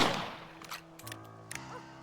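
A single rifle shot in the video game Red Dead Redemption, set in 1911, cracks loudly at the very start and fades into a quiet tonal game score with a few faint clicks.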